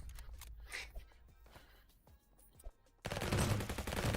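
Gunfire from a sniper rifle in a first-person shooter video game, a dense burst of loud shots that rises abruptly near the end, with quieter game sounds before it.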